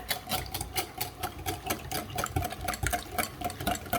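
A whisk or utensil beats quiche filling seasoned with salt, pepper, herbes de Provence and garlic, producing a steady rapid rhythmic clatter and sloshing in a bowl, moderately loud and without talk.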